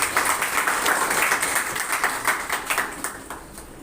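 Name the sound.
applause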